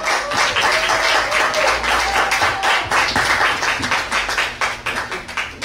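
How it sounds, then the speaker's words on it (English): Applause from a crowd welcoming a speaker to the microphone at a Virgin Islands Consortium event, steady dense clapping that swells and holds for several seconds, close and fairly loud, with a few sharper individual claps. "Please, by round of applause"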